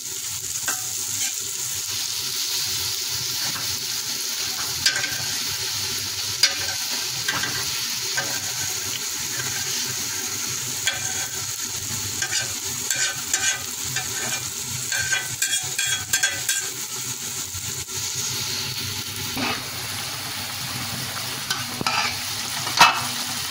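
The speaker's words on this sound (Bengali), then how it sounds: "চাপা শুটকি যে ছাড়ছি, ফেলে দিছি" Chapa shutki, dried fish, fries in a pan with a continuous loud sizzle and crackle, accompanied by intermittent scraping and stirring clatter throughout, no voices.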